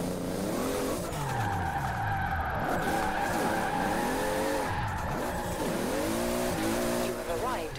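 A Toyota Supra drifts in Forza Horizon 4 driven with a wheel, its tires squealing continuously over a loud revving engine that rises and falls through the slide, with someone talking over it.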